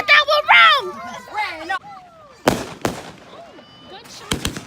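Fireworks on New Year's Eve bursting in three sharp, loud bangs in the second half, a pair close together and a last cluster near the end, after children talk and shout excitedly at the start.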